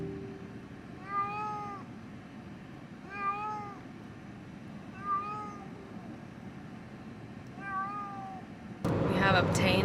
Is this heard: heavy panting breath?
no